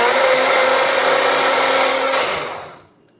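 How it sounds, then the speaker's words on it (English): A blender whirs through a strawberry protein shake with a loud, close, steady high-pitched roar, then spins down and cuts off into silence near the end. "Now just blend that up."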